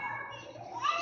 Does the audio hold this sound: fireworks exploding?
no